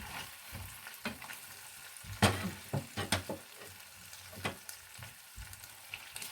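Chicken pieces sizzle and crackle in a frying pan, the steady frying hiss broken by several louder scrapes and pops as the pieces are stirred and turned, close and without talk.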